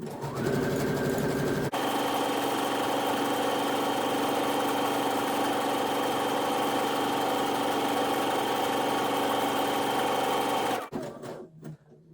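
A sewing machine stitches a tote bag in one long, steady whirring run lasting several seconds, loud and close, with handling noises before it starts and after it stops.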